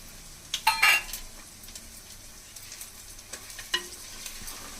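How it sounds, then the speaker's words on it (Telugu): Whole spices sizzle in about a tablespoon of hot oil in a clay pot for fish biryani, with a spoon stirring and clinking against the pot, a soft steady fry beneath scattered scraping taps, no talk. "మొత్తం ఒకసారి మిక్స్ చేసుకుని కొంచెం స్పైసెస్ అన్ని ఫ్రై అయిపోయిన తర్వాత"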